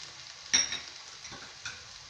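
Onion, tomato and chili pieces sautéing in a pan for ragda patties give a faint, steady sizzle with a few soft stirring clicks, one brief louder scrape near the start.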